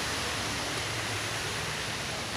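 Steady broadband rush of a waterfall at Khao Sip Ha Chan National Park in Kaeng Hang Maeo, Chanthaburi, a dense continuous roar heard alone and fairly close.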